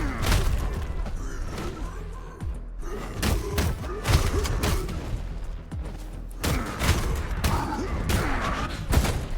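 An explosive gun fires in the beat 'em up KIBORG: Arena, a series of sharp, punchy booms and heavy thuds at irregular intervals, loud and close over busy combat clatter.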